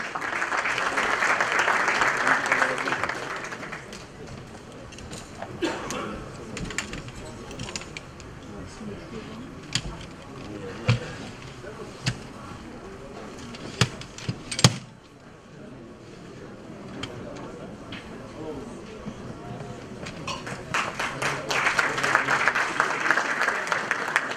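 An audience at a Sakarya sports awards ceremony applauds as an award recipient is called up. Clapping swells at the start, drops to scattered claps and sharp knocks, then rises again near the end.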